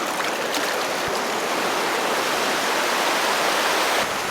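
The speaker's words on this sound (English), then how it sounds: "This is a really cool section of the river where there's some nice calm parts, turns into big rapids." River rapids churn in a steady roar of rushing water near a calm pool at Haynes Point Provincial Park, loud and continuous with no talking.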